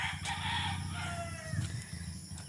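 Backyard chickens, a hen and a rooster, with a rooster's crow rising over steady nearby clucking and low farmyard rumble, fairly close and continuous.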